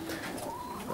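A racing pigeon kept for long-distance marathon racing in Bihor county, Romania, gives a soft, low, throaty coo, faint against steady background noise, with no voices over it.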